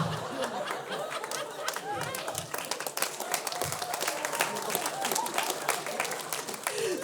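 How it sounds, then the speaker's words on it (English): Audience applause with scattered laughter at a stand-up comedy special, a steady dense wash of clapping heard moderately loud throughout, with some crowd murmur mixed in. "The queef bit got an applause."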